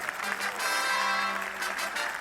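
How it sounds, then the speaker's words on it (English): Audience applause for the cycling medalists on the final podium of the men's team time trial at the 2017 UCI Road World Championships in Bergen, a steady, dense clapping that fills the whole moment. "your applause and congratulations to our medalists"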